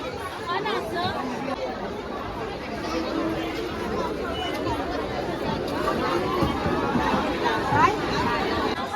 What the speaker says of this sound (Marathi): गर्दी आहे मच्छी मार्केट आहे